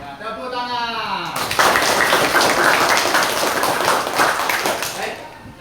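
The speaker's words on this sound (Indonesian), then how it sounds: "Ya, tepuk tangan." A classroom of students breaks into sustained hand clapping after a teacher's short spoken cue, a dense continuous patter of many hands lasting several seconds before fading.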